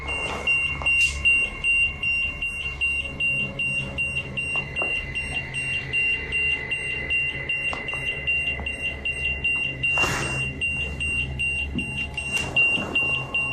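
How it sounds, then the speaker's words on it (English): EMF meter beeping with an active reading while exploring a dormitory: a steady high-pitched electronic alarm tone runs throughout, with rustling, footsteps and scattered bumps beneath it. "they get another active reading on their EMF meter"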